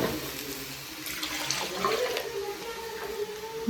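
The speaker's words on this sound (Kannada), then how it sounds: "ಇದು ನೀರು ಹಾಕ್ಬೇಕು, ಅಷ್ಟು ನೀರು ಹಾಕ್ಕೊಂಡು" Water runs and splashes steadily into a cooking pot, a continuous pouring stream heard close with some faint background noise.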